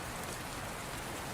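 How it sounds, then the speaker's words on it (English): Steady rain falls, a dense, even hiss of drops pattering on surfaces, constant and unbroken throughout, with no voices. "The delicate rain continued its steady, rhythmic tapping"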